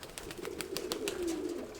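Pigeon cooing from a loft of kept pigeons, including a pale year-old bird ringed number 60: a soft, low, continuous coo rising and falling over about two seconds, close by, with faint rustling and no talk.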